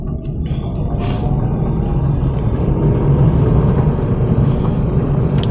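A car pulling away in second gear while driving through traffic, its engine giving a steady, loud low rumble that swells gradually as it gains speed, with no talking over it.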